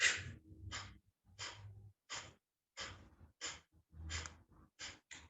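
Forceful pumping exhalations during a yoga breathing exercise, nine or ten sharp, close nasal bursts of air in a steady rhythm about half a second apart, with quiet pauses between.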